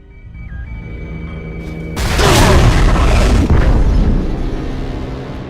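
A tunnel blown up in the BioShock 2 Minerva's Den add-on, a sudden massive boom that bursts in after quiet tones, then a long, loud rumbling roar of collapse that slowly fades.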